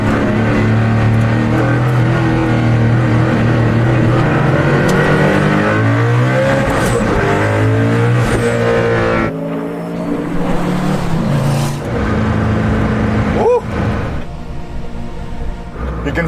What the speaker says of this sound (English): You can feel the engine idling.